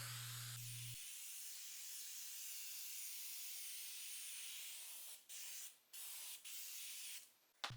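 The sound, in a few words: spraying adhesive from aerosol can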